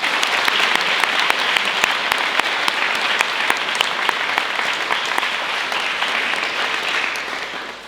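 A debate audience claps continuously for introduced speakers, dense even applause sustained throughout before tapering off slightly at the end.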